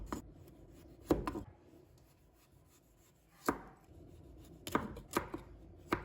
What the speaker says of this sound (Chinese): 然后把南瓜的皮切掉不要，因为它的皮比较硬